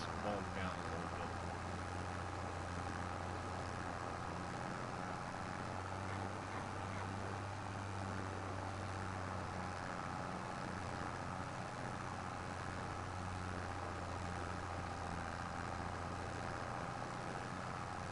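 In Farming Simulator 25, a tractor engine drones steadily at low pitch while pulling a full trailer, slightly bogged down under the load, a constant mid-level hum under someone talking throughout.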